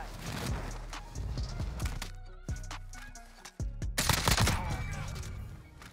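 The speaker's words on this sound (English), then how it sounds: "Getting shot from somewhere." Rapid gunfire in a battle royale video game, dense bursts of automatic shots and sharp cracks with booming impacts, loud and close throughout, with a player talking over the action.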